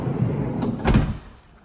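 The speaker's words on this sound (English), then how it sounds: "It's got the soft closing doors, power latching as Volkswagen call it." A sliding door on a 2020 Volkswagen Caravelle LWB with soft-close power latching draws shut, a low rumbling slide ending in a brief louder latch thud, then quiet.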